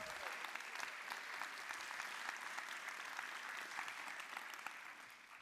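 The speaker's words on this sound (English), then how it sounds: "give yourselves a big round of applause" Steady applause from a travel creator panel audience fills the space with dense, continuous clapping at moderate distance, holding evenly before tapering slightly at the end.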